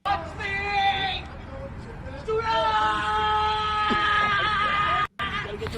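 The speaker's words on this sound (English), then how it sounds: "I think she's just screaming." A woman screaming in a played video, long, loud, sustained cries that break and restart, with a brief cutout near the end.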